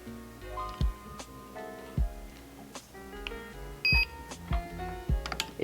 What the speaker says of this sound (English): It's beeping, but now I don't have control again.